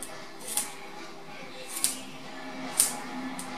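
Scissors snipping during a special-effects makeup job, cutting open a fake wound: four crisp, close snips spaced about a second apart over a low, quiet background.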